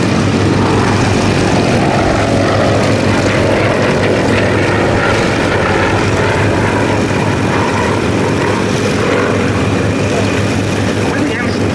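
Avro Anson propeller aircraft flying at Duxford, a loud droning piston-engine hum with steady low throb running continuously, likely mixed with a voice talking over it.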